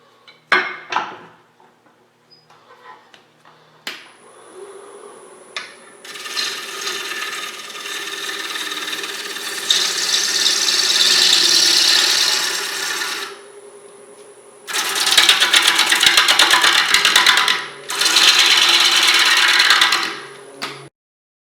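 Birch log being rough-turned into a bowl blank on a wood lathe, with wormholes in the wood: steady rasping cuts in long bursts alternating with quieter spinning, close and fairly loud.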